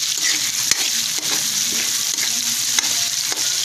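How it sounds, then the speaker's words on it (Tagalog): Onion and garlic sauté in a hot pan, a continuous loud sizzle broken by clacking stirs of a utensil at irregular intervals, with no talking. "Ginigisa na natin ang kamote"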